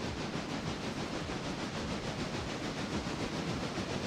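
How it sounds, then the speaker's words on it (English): A locomotive running in the RailRoader railway game, a steady, moderately faint rumbling hiss with an even rolling rhythm and no breaks. "That's how we're gonna turn the locomotive around."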